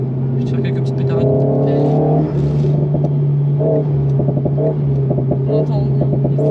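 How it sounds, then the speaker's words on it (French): A French sports car's engine rumbles and revs with exhaust crackle, a loud, steady drone, while someone talks over it. "Je vais te faire quelques petites pétarades."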